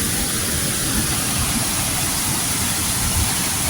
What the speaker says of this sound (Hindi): किस बड़ी तादाद में पानी आ रहा है, पहाड़ों में ऊपर से आ रहा है